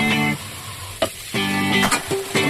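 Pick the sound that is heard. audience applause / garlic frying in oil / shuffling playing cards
garlic frying in oil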